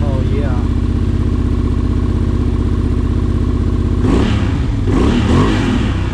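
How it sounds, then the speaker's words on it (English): Honda Transalp 750 motorcycle fitted with a Yoshimura exhaust, idling with a steady loud thrum before two sharp throttle blips near the end, close to the bike and with no talking. "I just have to fire this up because I never get tired of listening to this Yoshimura exhaust."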